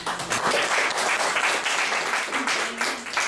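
A church congregation breaks into sustained, dense applause, many hands clapping at once for the whole stretch, loud and close, with a faint voice underneath.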